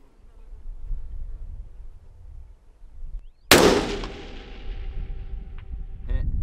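A single sharp combat rifle shot fired at a 700-yard human-size silhouette target cracks loudly at mid-clip, its blast ringing and trailing off over quiet outdoor background, with no speech.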